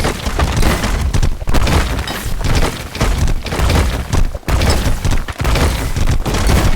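Loud, dense in-game explosions and blasts from a stripper blowing up during a competitive match, a near-continuous barrage of booms and crashing debris with brief gaps.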